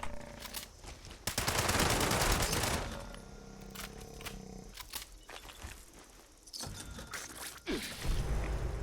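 A heavy gun fires long rapid bursts in Fallout 76, loud and sustained with short pauses between them and some impact noise mixed in.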